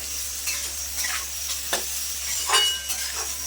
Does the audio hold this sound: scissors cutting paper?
no